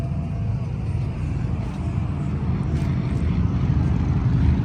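A Mahindra ROXOR's 2.7 liter turbo diesel engine idles steadily outdoors while warming up, a continuous low rumble held at an even, moderate level from start to finish, with no one talking.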